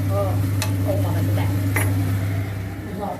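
Green onions with fresh peas being stirred in a pan, a steady soft scraping and sizzling running throughout, with a few sharper utensil taps against the pan.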